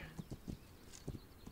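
Horse hooves clip-clop in a steady uneven rhythm as mounted riders move along in the video game This Land Is My Land, several distinct hoof strikes heard moderately close with no talking.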